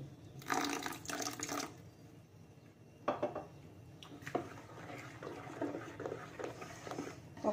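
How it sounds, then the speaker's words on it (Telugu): Water is poured in bursts into dosa batter in a bowl: a splashy pour, a pause, then a longer, steadier trickle close by with no talk. "కొంచెం నీళ్ళు వేసుకుందాం."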